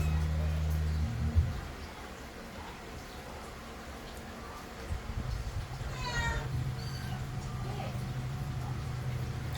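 Several cats meow in a home kitchen, rising wavering cries in a short cluster near the middle, moderately close, over steady low household hum and faint background noise.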